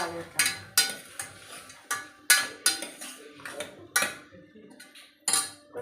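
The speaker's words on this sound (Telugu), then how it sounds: "మటన్ పీసులు, ఇట్లా మంచిగా వేయించుకోవాలి." Mutton pieces clatter and scrape in a pan as a utensil stirs them, giving sharp, irregular metallic knocks close by, with no talk.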